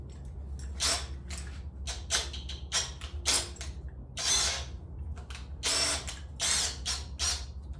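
The chuck of a Greenworks 24V cordless drill is tightened in short repeated ratcheting bursts, about a dozen quick clicking pulses at close range with brief pauses between, outdoors in the cold.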